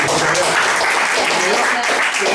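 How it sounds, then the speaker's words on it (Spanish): An audience bursts into steady, dense applause for a presenter, loud and close, continuing the full length without a break. "un aplauso para Rubén"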